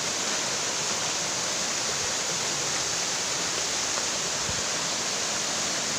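Lambingan Falls pours steadily nearby, a broad, even hiss and rumble of cascading water that holds constant throughout with no voices over it.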